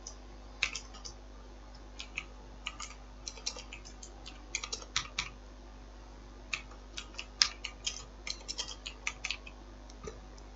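Someone types on a computer keyboard while entering code in a C++ programming lecture, producing scattered bursts of light, close key clicks over a steady low electrical hum.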